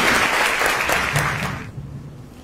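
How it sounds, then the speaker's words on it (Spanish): Audience clapping after the introduction of a speaker at a legal lecture, a dense burst of applause that fades out over about two seconds, with a faint murmur underneath. "para cual pedimos un fuerte aplauso"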